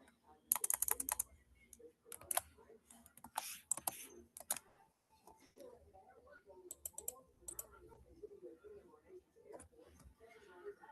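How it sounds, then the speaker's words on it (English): A computer keyboard is typed on in quick bursts of crisp, close clicks at the start, then lighter taps continue under a person talking. "I'm just going to type in acne."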